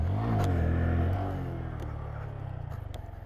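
A small Grom motorcycle does a wheelie; its engine revs loudly up close, then drops away into a fading, pulsing low rumble.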